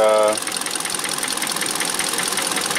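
The swapped engine of a 2012 Kia Soul runs at a steady idle up close, a loud, even rhythmic thrum with a faint ticking pulse, after a brief tonal whine at the start.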